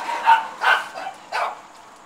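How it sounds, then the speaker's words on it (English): A few dog barks sound from a distance, three spaced yelps over a couple of seconds, fairly faint against a quiet background. "I think it's dogs. Sounds like ferocious dogs."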